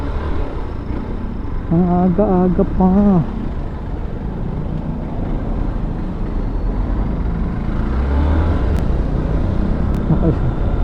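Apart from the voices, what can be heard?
road traffic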